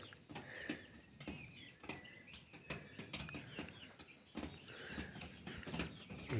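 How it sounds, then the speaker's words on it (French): Young chickens, not yet full-grown hens, give high chick-like peeping calls with scattered short clucks, close and moderately loud over a low background hum. No one speaks. "Ils ont encore le petit cri du poussin."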